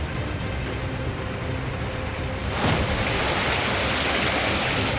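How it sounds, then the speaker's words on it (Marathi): Heavy monsoon rain pours down in Mumbai in a steady, dense hiss that swells louder partway through, with no voices. "ठाण्यामध्ये मुसळधार पाऊस कोसळत असताना"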